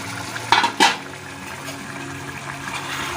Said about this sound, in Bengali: ঢাকা সরিয়ে দিচ্ছি